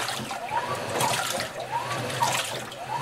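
A GE Infusor high-efficiency top-load washer fills its drum, water pouring and splashing steadily in a continuous close rush with faint swirling tones.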